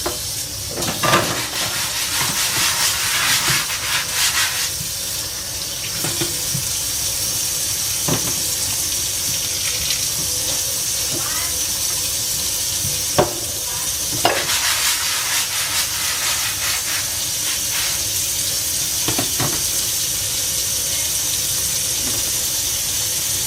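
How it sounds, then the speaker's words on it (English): A kitchen tap runs steadily into a sink while dishes are washed by hand, a constant near rush of water broken by scattered clinks and knocks, with no talking. "Let me wash some more dishes,"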